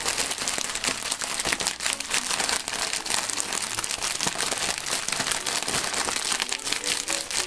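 Continuous crinkling and rustling of a plastic snack packet, busy and close, crackling steadily throughout without any talking.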